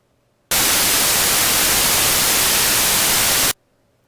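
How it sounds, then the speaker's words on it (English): Gaussian white noise of the kind made by shot or thermal noise processes: a loud, steady, even hiss spread across the whole range, running alone for about three seconds and cutting off abruptly. "This is Gaussian white noise as would be produced by a shot noise or thermal noise process."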